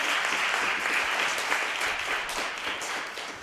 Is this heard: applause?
yes